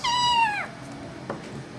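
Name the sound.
cat fight, high-pitched yowling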